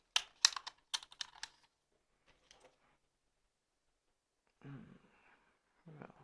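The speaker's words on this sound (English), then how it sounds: "Let's pop in the battery." Battery snapping into a Sony HDR-CX405 camcorder: a quick burst of sharp plastic clicks and rattles up close, then quiet, followed by two short scraping handling sounds.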